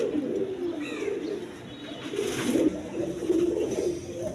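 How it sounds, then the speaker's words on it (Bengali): Soft, low racing pigeon cooing repeats close by, a throaty burbling call rising and falling over faint background noise. "এখানে একটা রেসার কবুতর আছে। দেখেন কোয়ালিটি সম্পন্ন কবুতর।"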